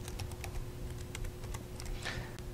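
Rapid keystrokes on a computer keyboard entering a Windows 8 shortcut, a steady run of light clicks close by with no talking.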